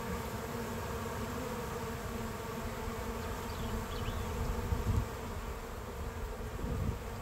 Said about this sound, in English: I noticed that some bees are going into that hive over there